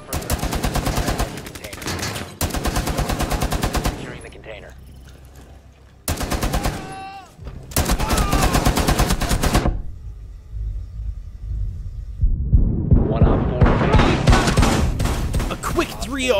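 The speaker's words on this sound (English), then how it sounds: "having a shield and giant mounted LMG doesn't hurt the situation" Rainbow Six Siege mounted LMG fire rattles in long, loud sustained bursts separated by short gaps, with a few quieter stretches between volleys.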